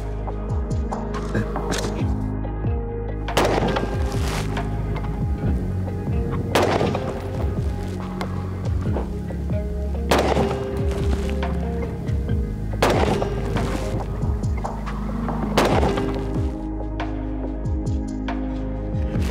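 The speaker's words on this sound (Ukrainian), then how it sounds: "ми переб'ємо наші гвинтівки на 100 метрів і знову постріляємо дистанції 200 та 300 метрів" AR-15 carbine with a 14.5-inch barrel firing at a 200-metre range, sharp reports spaced every few seconds over a steady hum, with a voice speaking between shots.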